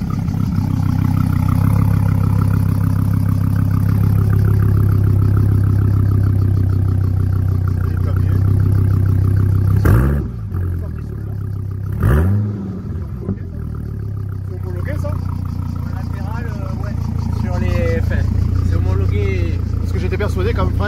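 A Dodge Viper ACR engine idles with a deep, loud, lumpy rumble, revs sharply twice in quick blips, then settles back to idle while people talk over it.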